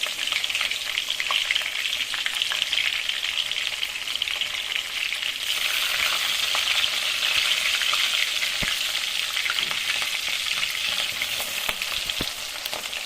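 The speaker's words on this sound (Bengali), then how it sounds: "চেরা কাঁচা লঙ্কাগুলো দিয়ে দিলাম।" Slit green chillies sizzling and frying in hot oil for a Bengali parshe fish curry, a steady, loud crackle with occasional sharp pops and faint stirring throughout.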